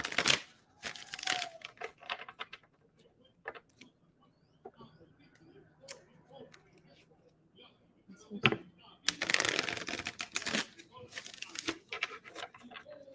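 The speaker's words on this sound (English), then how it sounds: "Leo, let me shuffle real good." Tarot cards are shuffled by hand in quick flicking, riffling bursts, close and crisp, heaviest at the start and again near the end, with quiet stretches and a voice talking in between.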